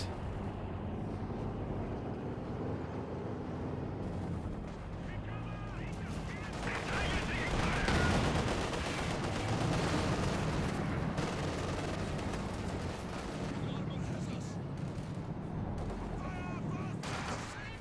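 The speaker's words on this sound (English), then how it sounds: "Great Katusha barrage." Katyusha rocket barrage and gunfire in Company of Heroes 2: a dense, roaring stretch of blasts and rattling shots that swells in the middle, with a commentator's voice over the battle.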